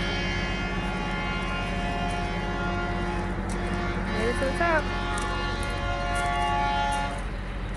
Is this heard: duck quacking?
no